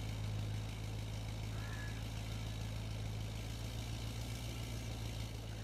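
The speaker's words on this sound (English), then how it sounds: "Start the engine" A tractor engine in Farming Simulator 22 idles steadily with a low, even mechanical rumble that stays constant and close throughout, with no talk.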